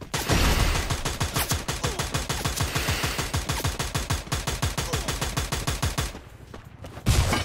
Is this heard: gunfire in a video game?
yes